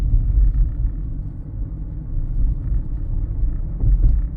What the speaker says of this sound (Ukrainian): Відпустив педаль, вона їде на електриці. І далі я буду їхати на електриці.